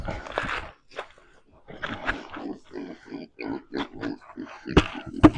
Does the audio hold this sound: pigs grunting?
yes